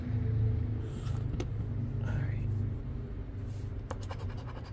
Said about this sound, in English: We're going to scratch it till we win it.